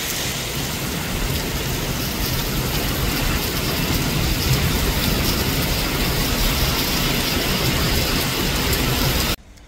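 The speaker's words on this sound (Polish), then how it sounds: "Padał deszcz, na szczęście nie zmoczyło mnie." Steady, heavy rain pours near a petrol station during a cycling trip between Częstochowa and Kraków, a dense unbroken hiss at constant loudness that cuts off abruptly at the very end.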